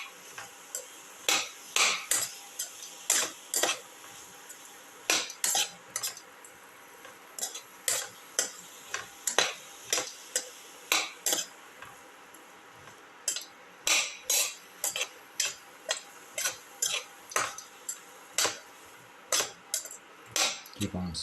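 Tomato pieces and salt being mixed in a pan: a metal spoon repeatedly scrapes and clinks against the pan in quick uneven strokes, crisp and close, with faint sizzling underneath.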